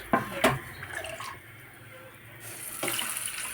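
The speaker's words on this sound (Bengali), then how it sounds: "অল্প পরিমাণে জল দেব" Water pours into a pot of hilsa fish curry with milk, a soft trickling splash after a couple of clinks, then a quiet steady flow.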